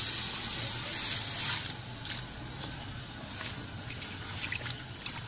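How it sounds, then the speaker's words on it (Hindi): Water pours steadily into a cooking pot sitting on a lit stove, a continuous close splashing trickle that is strongest at first and then eases slightly. "पानी दे जो कम है सी पानी अस जो होर डालने लगे"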